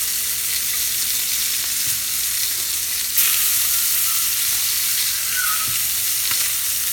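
Scallops and black tiger shrimp searing in a hot pan, a steady loud sizzle and crackle filling the whole stretch, with a brief scrape of stirring partway through and no talking.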